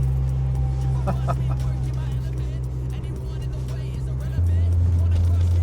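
A BMW E36 323i idles loudly while warming up, a steady low engine drone that steps up in pitch near the end, with someone talking over it.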